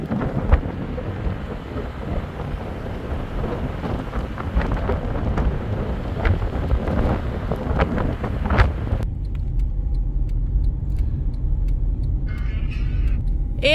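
A car driving along in a wedding procession, heard from inside as a steady low rumble with buffeting wind noise and no one talking.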